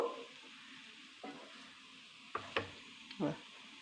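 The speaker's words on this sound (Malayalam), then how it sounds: "ഇളക്കി കൊടുക്കാം നമ്മൾ പാവയ്ക്ക ഇട്ടു" Bitter gourd frying in a pan with a faint steady sizzle, broken by a few sharp scraping clinks of a spoon stirring the pieces, the strongest strokes near the end.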